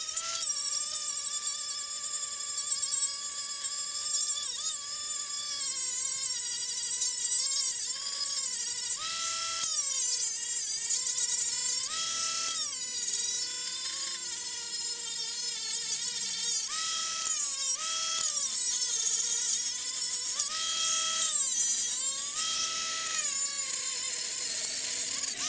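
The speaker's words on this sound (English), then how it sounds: "I'm going to do is just take my grinder here. I got a new fresh blade on it, and I'll just see if I can't cut that cap off." A cordless angle grinder with a fresh blade cutting through the metal cap of a shallow well pipe, a loud high-pitched whine that steadily rises and dips in pitch as the blade bites and eases, continuous for the whole stretch.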